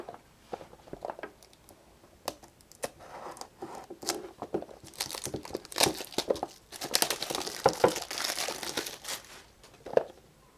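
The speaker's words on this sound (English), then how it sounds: "Cut through the security seal, and we'll put the pocket knife aside." Pocket knife slicing through the plastic security seal on an LG 4X HD phone box, giving scattered crinkling, scraping and tearing bursts that grow busier and louder toward the end, with no speech.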